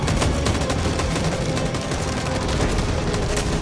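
Dense gunfire roars through a chaotic battle in Detroit: Become Human, with crackling shots and rattling bursts blending into a loud, continuous barrage without pause.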